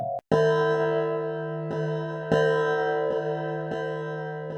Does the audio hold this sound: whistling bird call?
no